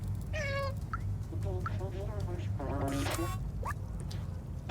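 A cat in the video game Stray meows several times in short, rising calls, spread across the moment and fairly close, with a low steady background hum beneath.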